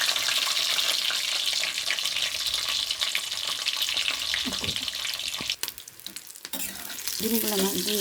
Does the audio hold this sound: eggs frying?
yes